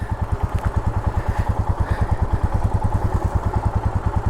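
A motorcycle engine on a village path in Nepal, putting close and loud at a steady, rapid rhythm, alone, with no talking over it.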